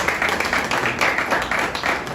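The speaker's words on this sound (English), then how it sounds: "please give him another round of applause" Audience applauding a speaker at a regional conference on taxation held by a faith and justice network, with steady, fairly close clapping throughout.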